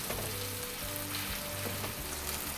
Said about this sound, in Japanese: で中火でちょっと焼き色だけ潰しながらつけていきます。